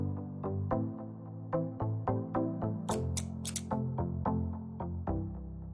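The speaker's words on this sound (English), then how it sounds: "For the jacket, cut a rectangle out of scarlet felt." Scissors snip through scarlet felt to cut a doll's pirate jacket, a quick run of crisp, close cuts in an uneven rhythm with brief pauses between strokes.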